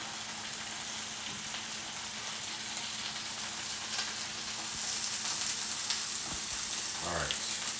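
Salmon fries in butter in a pan with a steady, dense sizzle throughout, growing slightly louder partway through, with a few faint clinks near the end and no speech.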